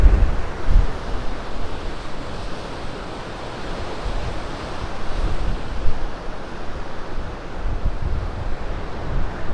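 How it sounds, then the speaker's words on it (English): Loud, steady surf washes against the Cornish coast at high tide while strong wind buffets the microphone, making a continuous roar with no pauses and no voices. "you would not believe this is the same place with the tide in and the wind blowing"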